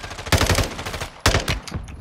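Machine gun fire in Warzone II, two loud close rapid bursts of several rounds each, separated by a short gap, with no talking over them.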